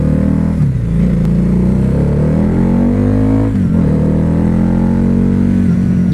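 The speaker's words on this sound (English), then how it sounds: "I'm gonna be taking the Harley Davidson V-Rod for a quick spin." A Harley-Davidson V-Rod Night Rod Special motorcycle engine runs loud and close, its pitch rising and falling through a couple of revving swells with a deep, steady rumble underneath and no voices.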